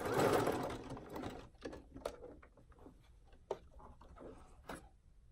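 A sewing machine runs briefly to sew fabric pieces shut, a close whirring burst at the start that fades into scattered light clicks, taps and handling noises.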